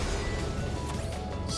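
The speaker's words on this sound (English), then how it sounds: "He's just shattering it with ease. The glass walls." Glass walls shattering in Sonic the Hedgehog (2006), a loud, dense, continuous crash of breaking glass and impacts that fills the whole moment with a harsh, busy texture.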